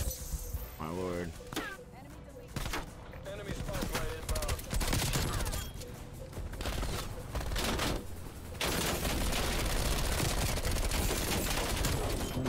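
Gunfight in Call of Duty: Black Ops during a Hardpoint match, with FFAR 1 rifle fire, repeated bursts of gunshots with metallic clinks, mixed with game sounds and a talking voice over much of it.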